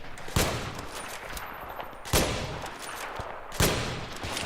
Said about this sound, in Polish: Strzały padają znikąd, jak to mówią